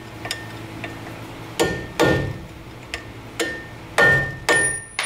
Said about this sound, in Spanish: le voy a dar con un plano, con un pulsón, le voy a dar para terminar de sacarlo